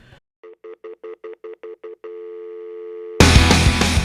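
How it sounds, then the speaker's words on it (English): An old telephone sounds at the opening of a pop-punk song: a brief tone, then a rapid series of about eight touch-tone dial beeps, a steady dial tone, and finally loud distorted guitars and drums crashing in. "it actually starts with a dial tone of like an old telephone"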